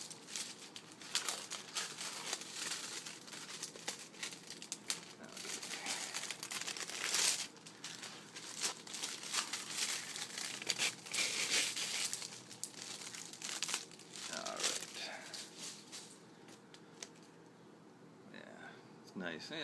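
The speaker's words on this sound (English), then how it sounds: "I'll just cut them off of the shrink" Shrink wrap is cut and peeled off vinyl records, giving close, continuous crinkling and tearing plastic with scattered crackles, while a person talks over it.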